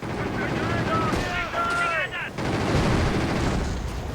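Gunfire from an infantry unit in Company of Heroes with the Blitzkrieg mod, a dense wall of rattling shots mixed with battlefield noise, brief whistling tones near the middle, and talk running over it throughout.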